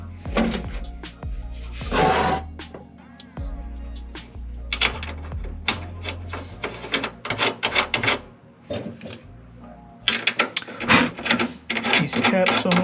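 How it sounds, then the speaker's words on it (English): Bolt being screwed down while fitting trunk shocks on a 1985 Fox Body Mustang notchback, heard as close scraping, rasping and rubbing bursts in irregular spurts, with faint low talk underneath. "Let me get this bolt screwed down"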